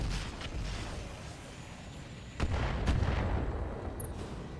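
Guided Direct weapon fire aimed at a Mackie mech in the RogueTech game, with two sharp blasts standing out above a steady rumbling background of battle noise, no voices present.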